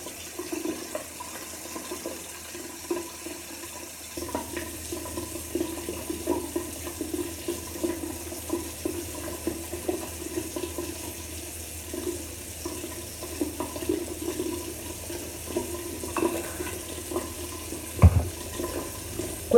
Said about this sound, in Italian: acqua calda ancora e rimettiamo l'allume di rocca.